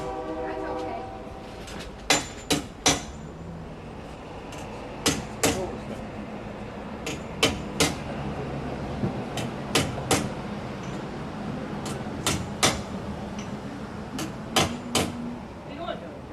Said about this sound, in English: Actions of hammering, I slowly start to bring it up into a cup shape.